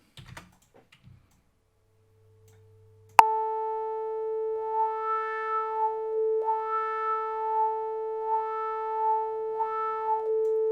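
Subtractive synthesis runs a sawtooth wave through a filter: after a brief quiet start with a few faint clicks, a sudden bright buzzy tone holds steady while the filter sweeps slowly up and down in repeated wah-like arcs.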